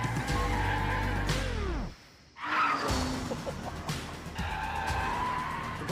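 Bentley Continental GT drifting, the engine roaring hard with tyres squealing, a sharp lift-off gap, then the throttle building again into a loud, sustained howl.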